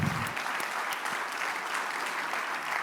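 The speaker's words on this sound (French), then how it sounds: "Et puis, on peut les applaudir." At a political party's summer campus opening, a crowd applauds its elected officials with steady, dense clapping and a few sharper individual claps, moderately loud throughout with no voices.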